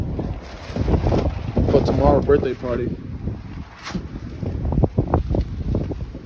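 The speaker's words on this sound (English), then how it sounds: "It's windy" Wind gusts outdoors in the evening beside a backyard pool being filled, a steady rumbling buffet against the microphone under a man's close, continuous talking.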